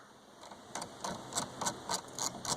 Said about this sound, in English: the first step is to remove the wiper blades. It's a 15mm socket.